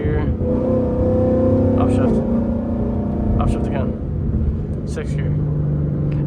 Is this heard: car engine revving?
yes